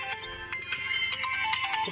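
A mobile phone ringtone plays in a workshop during repair work on an Eicher 474 tractor engine, a steady melodic tone running the full length at moderate loudness over background noise.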